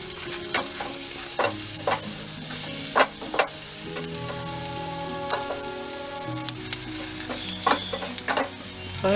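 Onions sizzle steadily in a pan over a camp stove for a simple jungle pasta, with sharp scraping stirs and clinks of a utensil against the pan breaking through the sizzle at irregular moments, close and alone without voices.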